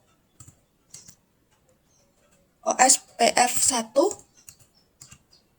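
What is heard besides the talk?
typing router commands on a computer keyboard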